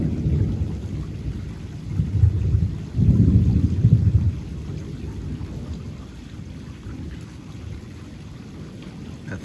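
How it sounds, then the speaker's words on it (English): Severe thunderstorm rumbles with loud, deep thunder rolling in heavy surges over steady rainfall, the strongest peal swelling about a third of the way through before easing into a lingering low rumble. "That thunder is so loud."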